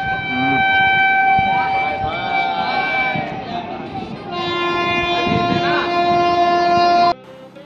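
An express train passes through a railway station, loud and close with sustained horn-like tonal blasts over heavy rolling rumble for about seven seconds, then cutting off abruptly.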